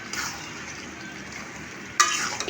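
Roast stirred in a frying pan, a soft steady sizzle with faint scraping throughout, then a sharper, louder utensil scrape near the end, close and without talk.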